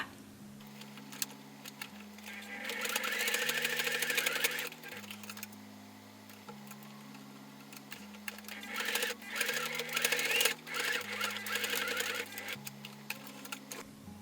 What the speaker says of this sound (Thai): แล้วก็นำชิ้นงานไปเย็บให้ติดกันเลยค่ะ